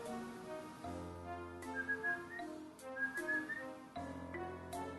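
A person whistles an imitation of a whippoorwill call, repeating a rising, lilting phrase several times, close and clear with no talking.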